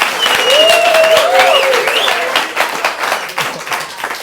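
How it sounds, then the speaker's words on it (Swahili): A studio audience applauds for a guest, steady clapping with a loud voice calling over it, tapering into scattered claps toward the end. "Wapi makofi yake?"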